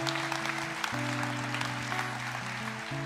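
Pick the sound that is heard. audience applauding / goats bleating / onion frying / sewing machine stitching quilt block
audience applauding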